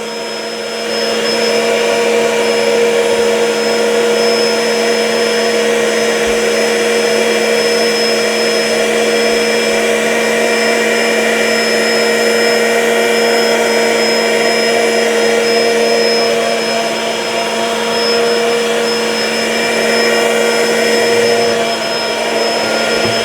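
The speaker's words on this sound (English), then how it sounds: "Vacuum up all that coffee grounds." A Bissell SpinWave wet-dry vacuum mop runs continuously with a steady whine and broad motor roar, loud and close, with no talking, vacuuming up coffee grounds.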